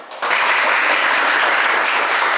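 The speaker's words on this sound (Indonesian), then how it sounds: "tepuk tangan dulu" Students in a classroom break into brief applause, a sudden burst of many hands clapping that stays loud and even for a couple of seconds.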